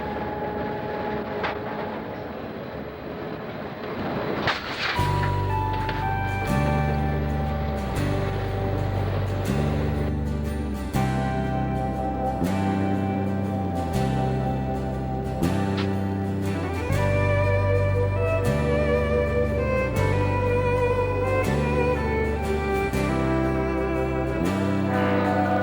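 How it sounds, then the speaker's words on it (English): A 1983-era B&O / C&O freight train working a steep mountain grade with helper power, heavy diesel engines throbbing in a rhythmic, pulsing drone after a sudden loud onset, sustained and close for the whole stretch. "this 1983 era train will demonstrate a time-saving method of dropping the helper"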